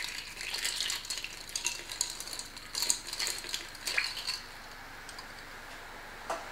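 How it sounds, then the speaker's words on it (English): Ice clinks and ticks as a spoon stirs a cocktail of tropical juices and spirits, a quiet, irregular rattle of light taps that fades near the end. "Now we want to give this a stir to mix up all our flavors"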